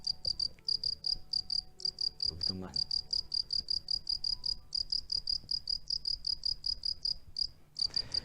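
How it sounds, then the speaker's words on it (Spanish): A small wood cricket, Nemobius silvestris, chirping in rapid, steady pulsed trills with short regular gaps, close and clear over faint background; a voice speaks briefly partway through. "Es un grillo pequeño, es un grillo de 1 centímetro, le llaman el grillo de los bosques"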